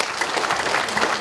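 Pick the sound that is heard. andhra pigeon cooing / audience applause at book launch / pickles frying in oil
audience applause at book launch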